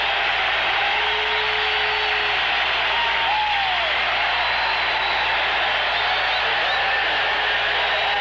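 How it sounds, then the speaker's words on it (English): A sellout stadium crowd at the Coliseum gives a standing ovation near the end of a Baltimore Colts at Los Angeles Rams football game, a steady, broad roar that holds evenly throughout. "It is a standing ovation, the sellout crowd at the Coliseum."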